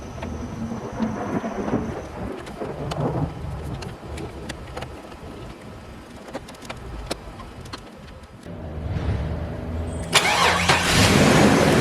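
A Chevrolet Blazer engine cranks and catches late in the stretch, then runs loud and rough close by after a long stretch of steady, noisy background; no one speaks.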